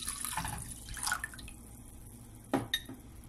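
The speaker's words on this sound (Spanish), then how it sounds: "ya por aquí está nuestra ollita y le introducimos el vaso de agua" A glass of water goes into a small pot for a strawberry remedy: a quiet kitchen scene with faint trickling, then a couple of short splashes and clinks near the end.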